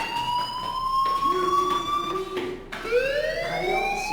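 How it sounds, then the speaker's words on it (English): A fire alarm in the Life is Strange video game rings as a steady, piercing electronic tone with a slight pitch wobble and a brief dip near the end, sounding close and continuous with no talk over it. "do you hear that fire alarm? That means you should be outside."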